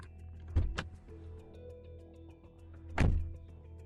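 Getting into a car: a sharp door thunk, a second quick click, a faint interior rustle, then another solid door slam close by, with no talk.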